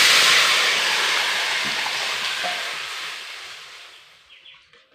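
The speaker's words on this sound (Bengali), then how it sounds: "এবার ওই কড়াইয়ে এবারে মিশ্রণটা ঢেলে দেব।" A thin egg curry mixture of egg, onion, tomato, water and mustard oil hits a hot kadai with a loud hissing sizzle that fades steadily over a few seconds.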